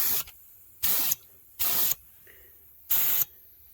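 Four bursts of spray paint hiss as a light first coat goes onto the two-tone rockers and cab corners of a Ford F-150, each pass about a third of a second long with short silent gaps, close and steady.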